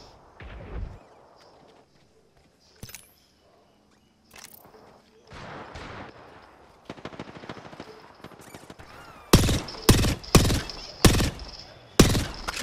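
Apex Legends gunfire: scattered shots and short bursts at first, then a run of five loud, evenly spaced automatic bursts close up, with quieter game sounds between.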